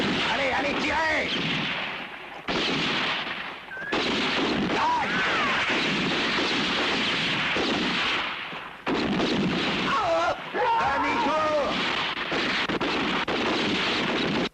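Rapid gunfire in a spaghetti western shootout, loud sustained bursts of shots and blasts filling most of the stretch with brief gaps, voices shouting over it.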